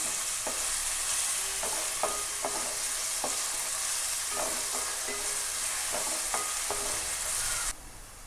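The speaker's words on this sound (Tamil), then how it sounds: "வெங்காயம் வந்துட்டு 2 நிமிஷமாக நல்லா எண்ணெயில் வதக்கியிருக்கிறேங்க" Steady sizzling of onions and chillies sautéing in oil, with occasional scraping and clinking as they are stirred; no one speaks.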